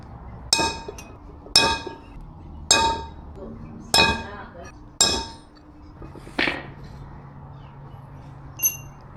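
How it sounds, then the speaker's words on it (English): Centre punch struck with a hammer to mark holes on a BMW E36 hub, six sharp metallic clinks spaced about a second apart, close and loud, with a quiet room between strikes. "So now I'm just going to centre punch them all."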